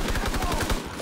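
Rapid automatic gunfire in Call of Duty WWII Team Deathmatch on the Ardennes Forest map, a dense burst of close, loud shots firing in a steady rhythm for about a second with no talk over it.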